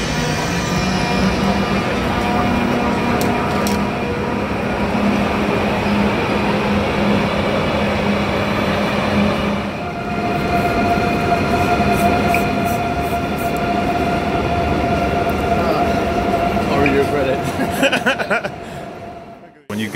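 A train pulls into Girona station, a loud steady rolling rumble with a sustained squealing tone and brief rattles. It fades out at the very end, and a voice chuckles and speaks over it.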